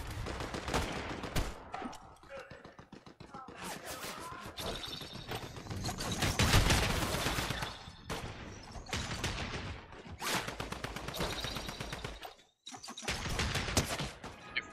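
Video game gunfire from computer-controlled bots, bursts of rapid automatic shots in clustered volleys separated by short lulls, loud and sharp throughout.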